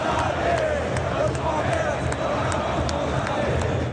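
A large football crowd at the Palmeiras stadium during a Libertadores home defeat makes a sustained, roaring wash of massed voices that stays loud and continuous, with no single speaker standing out.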